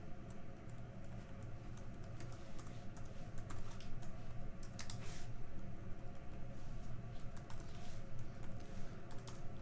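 Fast, steady tapping on a computer keyboard during a lecture on R programming, with close, quiet clicks over a faint background hum and nobody speaking.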